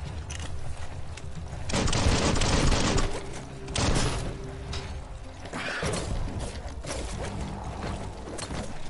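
Video game gunfire in Biomutant on hard mode, dense bursts of rapid shots and impacts rolling continuously through a chaotic combat mix, loud and close.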